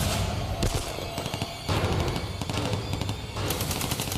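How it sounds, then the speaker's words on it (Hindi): Rapid bursts of gunfire from above the rocks during a Para SF commando operation in Myanmar, loud machine-gun rattles in dense repeated volleys with brief pauses between bursts. "चट्टानों के ऊपर से गोलीबारी शुरू हो गई"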